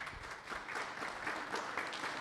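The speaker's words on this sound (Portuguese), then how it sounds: "eu solicito uma calorosa salva de palmas." Warm applause at a regular organizational meeting, a brief, faint but continuous patter of many hands clapping from across the room.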